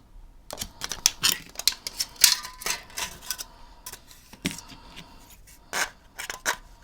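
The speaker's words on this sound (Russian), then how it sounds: "и вырежу ножницами." Scissors snipping through thin metal cut from a tin can, a series of sharp, uneven crisp clicks and scrapes close up, with short pauses between cuts.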